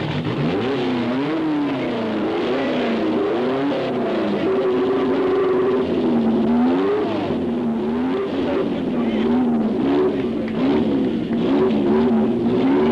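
At the 1972 Monte Carlo Rally, the number 11 rally car has trouble getting going again. Its engine revs unevenly, rising and falling in pitch, and runs continuously and fairly loud throughout.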